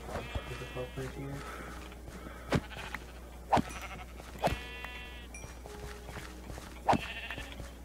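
Sheep in the video game Ridgecore bleat several times over a low steady hum, with short separate bleats spread across the scene while people talk.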